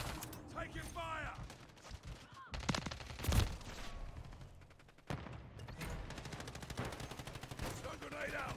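Gunfire in Call of Duty: Modern Warfare 3 on the Stash House map, with rapid automatic bursts and single shots crackling throughout, a dense rattling volley near the end, and game voice callouts mixed in.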